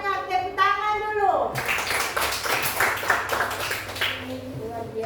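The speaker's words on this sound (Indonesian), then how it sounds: "Tepuk tangan dulu." Children in a primary school classroom, during a lesson on food chains, burst into quick, lively hand clapping after a short stretch of young voices, the claps continuing in a brisk, busy patter.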